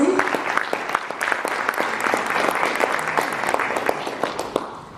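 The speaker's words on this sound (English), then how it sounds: "Another round of applause for His Excellency." Summit audience at the 5th AOGS 2019 gathering applauds His Excellency, a sustained burst of many hands clapping, close and fairly loud, holding evenly for several seconds.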